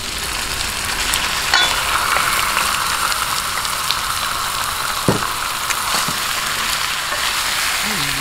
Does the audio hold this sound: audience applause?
no